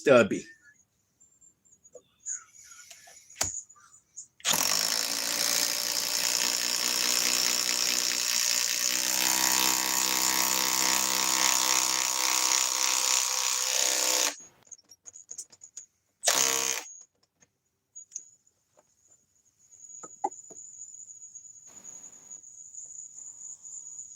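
Subcompact stubby power tool driving fasteners, a loud sustained whirring buzz running about ten seconds, followed by a second short burst, with faint ticking and quiet background between.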